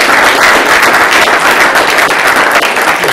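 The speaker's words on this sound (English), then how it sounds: "Let's have another round of applause" Sustained audience applause at a nanotechnology forum, loud and dense throughout the short stretch, with no voices over it.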